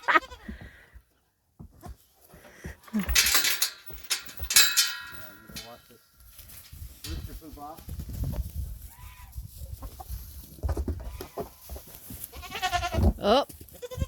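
A herd of goats bleats repeatedly, near and loud, while hay is brought in, with overlapping cries, shuffling, rustling and a few people talking in between.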